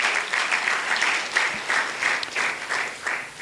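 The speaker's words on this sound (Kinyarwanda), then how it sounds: "Amashyi menshi ku mwami Yesu." A church congregation breaks into steady applause during a sermon, the sound a continuous wash of many hands clapping in pulsing waves, fairly loud and with no voices over it.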